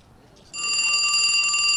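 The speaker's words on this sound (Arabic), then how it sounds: "جرس" A quiz show bell rings once after a quiet lead-in, a bright, sustained metallic tone that rings on steadily to the end, close and fairly loud, with no talk over it.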